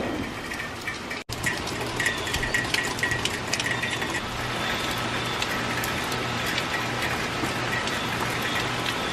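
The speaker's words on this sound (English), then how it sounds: "Didn't beat the rain today completely" Rain falls as a continuous broadband hiss, with a single sharp click early on and faint patter over a low steady rumble; no voices.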